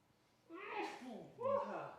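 Two sneezes from a person, a breath apart, close and fairly loud, heard around a Warhammer Age of Sigmar tabletop game.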